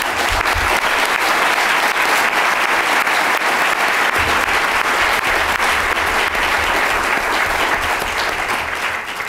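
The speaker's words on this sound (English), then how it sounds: "can we give them a round of applause?" Sustained, dense audience applause fills the room after a panel discussion on cancer, loud and even throughout with no speech over it.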